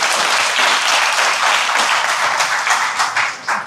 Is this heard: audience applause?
yes